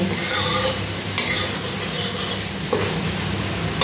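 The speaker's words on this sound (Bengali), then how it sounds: "তো এইটাকে আমি কষিয়ে নেব যতক্ষণ না তেল ছেড়ে আসছে।" Bengali spice masala with softened tomato for a pabda fish curry sautéed in oil, a steady close sizzle with scraping stirs of a spoon against the pan recurring every second or so.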